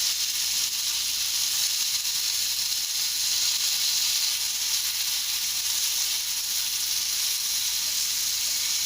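Pineapple tikka, cut from juicy yellow pineapple, fries uncovered in a pan over a low gas flame, giving a loud, continuous, even sizzle and hiss that fills the whole stretch without any talk.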